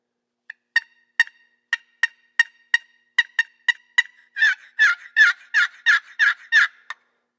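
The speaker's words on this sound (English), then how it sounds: "That is a heck of a good sounding box call right there." Woodhaven Real Hen walnut box call scraped to make turkey sounds: a run of about a dozen sharp, clipped clucks and cuts, then a fast series of louder, raspier notes, close and alone.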